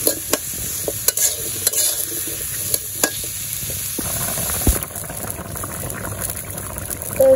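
Potatoes and eggplant sauté in a pan, sharp spatula clicks and scrapes landing every second or so over a steady sizzle that grows busier and more bubbly toward the end.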